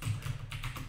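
Code is typed rapidly on a computer keyboard in the IntelliJ editor, a short close run of steady key taps with no talking.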